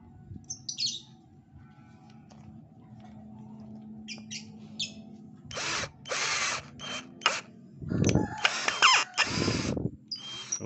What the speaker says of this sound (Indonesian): Kita coba buat ngebor ini ya